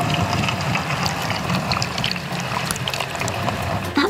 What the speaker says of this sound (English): Did you hear all the water spraying around?